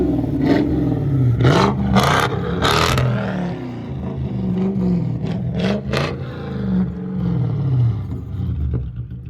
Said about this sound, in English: Make sure the revs sound good.